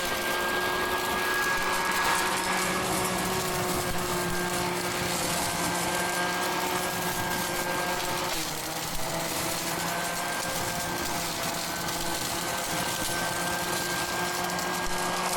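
A WORX Trivac WG512 leaf blower vacuum runs steadily and loudly at close range, a constant whirring motor roar with a high whine that continues without a break and without speech.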